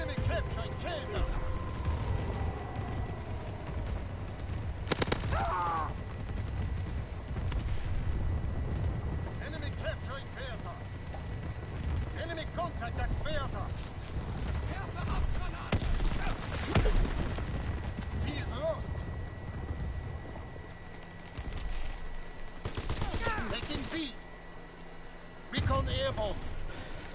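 Flak guns in Call of Duty WW2 fire at bombers overhead, sharp bursts standing out at intervals over a constant low battle rumble, while an in-game voice keeps talking.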